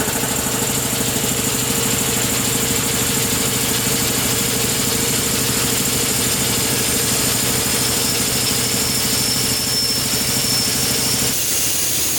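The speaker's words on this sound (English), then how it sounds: "we gotta run the compressor with the drain valve open so it doesn't really experience any load" An air compressor runs steadily for its break-in with the drain valve open, a loud continuous motor-and-pump drone with a hiss of escaping air, unbroken throughout and alone.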